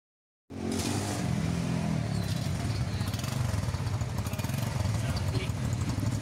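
An Express E-70cc motorcycle, a 2023-24 model with self-start, idles after a sudden start: a close, steady, low putter with fast regular pulses that holds evenly to the end.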